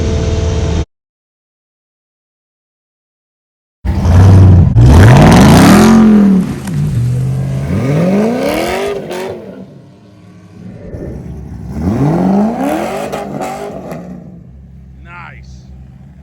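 A Corvette C5 stroker race car engine roars through several sharp revs after a brief silence, each rising and falling in loud bursts, close by with voices faintly mixed in.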